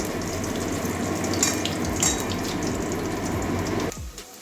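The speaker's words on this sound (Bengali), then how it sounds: "এটাও হালকা একটু একটু ভেজে নিচ্ছি উল্টিয়ে পাল্টিয়ে" Potato pieces with turmeric fry in a pan, making a constant close sizzle broken by scraping clinks as they are turned. The sound drops off abruptly just before the end.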